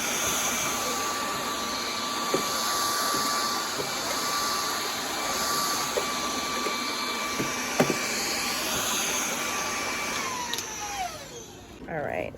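A vacuum cleaner runs steadily while cleaning out a makeup case, a constant whine with occasional knocks and bumps of the nozzle, then winds down near the end as the motor is switched off.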